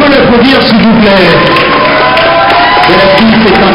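At a cosplay day villains' parade in Saintes, a crowd applauds and cheers a Bellatrix Lestrange cosplayer, loud and close, with voices mixed into the clapping.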